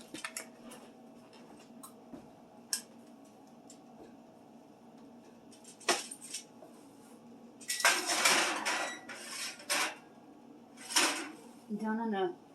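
A bacon tray clatters into a preheated home oven: soft kitchen background, then a cluster of loud metallic clanks and scrapes of pan and rack, with a few sharper knocks between.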